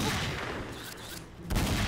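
Gunfire in the shooter game XSHOT, from an AWP sniper rifle: a loud burst of shots, a brief dip toward quiet, then another sharp blast at the end.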